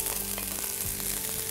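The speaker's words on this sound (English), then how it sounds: "give that a good stir fry so it picks up lots of colour" Beef and sliced red pepper sizzle loudly in a stir fry pan, a dense, continuous crackle and hiss with small pops throughout, close up and alone.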